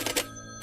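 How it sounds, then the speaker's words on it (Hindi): A short electronic telephone ring, two quick bright trills close together, then a brief third chirp after a pause. "एक फोन कॉल।"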